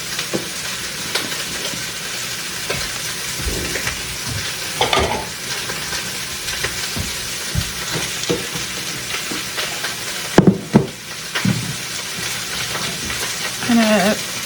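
Beef short ribs searing in a pan, a continuous loud sizzle with sharp pops and clatters of tongs, a voice speaking intermittently over it.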